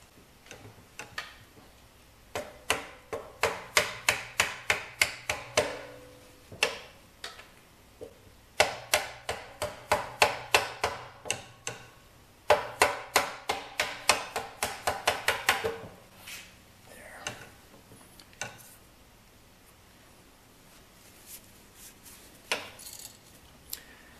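Metal parts being tapped through during assembly of a Yamaha YL1 motorcycle rear brake system, with bursts of rapid light metallic taps in several runs, then slower scattered knocks, fairly close and clear.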